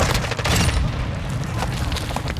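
Loud booming blast from a grenade in a first-person shooter, sustained dense explosive rumble and crackling gunfire-like bursts filling the whole stretch without a break.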